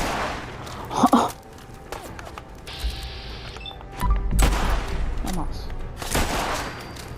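Rifle gunfire in a video game comes in several sharp bursts of shots with mechanical clicks and reload noises between them, while a person talks over the action.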